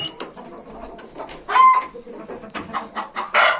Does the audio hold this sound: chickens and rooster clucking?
yes